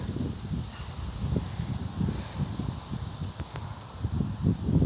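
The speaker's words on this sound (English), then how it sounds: "But it is really freaking windy." Gusty wind stirring leaves outdoors before an August storm, a soft, uneven rustle that swells and fades in waves without voices.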